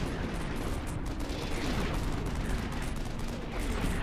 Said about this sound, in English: Mortar's hitting hard now.